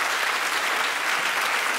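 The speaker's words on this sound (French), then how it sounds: "On peut l'applaudir à Fabrice." A theatre audience applauds a stage technician at a live comedy show, a loud, dense, sustained wash of clapping from the whole house that fills the clip with no speech on top.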